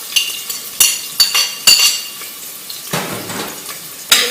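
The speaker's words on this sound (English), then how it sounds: "Giving that a stir." Garlic and onion stirred in warm oil in a pan, several sharp metallic clinks and scrapes of a utensil against the pan over a soft, faint sizzle, close and loud.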